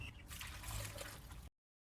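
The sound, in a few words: water being poured into a vessel with fish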